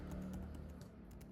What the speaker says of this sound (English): we started typing